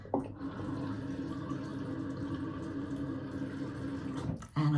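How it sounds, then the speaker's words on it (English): Water pours steadily into an orchid pot for several seconds, a close continuous splashing trickle that stops abruptly near the end. "I'm just going to give them a bit of water"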